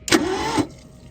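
The electric fuel pump on an old barn-find car runs in one short buzzing whir of about half a second, loud and close, then cuts off abruptly.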